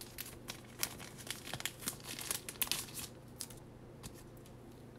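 Trading card pack wrappers crinkle and tear as several packs are opened, a steady run of close, quiet crackling bursts with small sharp spikes and no talking.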